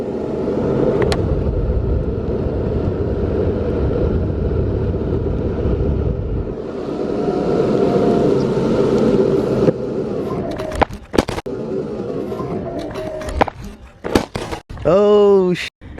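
An electric skateboard rolls at medium speed, a steady low wheel rumble with wind buffeting the microphone, then easing off into scattered thumps and scrapes and a brief whirring sweep near the end; a voice speaks over part of it.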